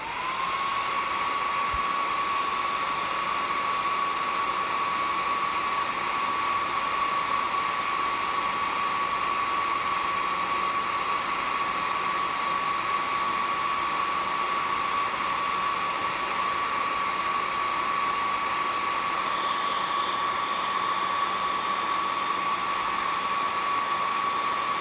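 A hair dryer blows paint dry on a model space rocket, a steady close whine and rush of air holding unbroken from start to finish.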